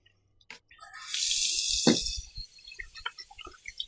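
A sink tap runs for about a second during a straight razor shave as the water is switched to cold, with a steady broadband rush followed by scattered drips and small clinks.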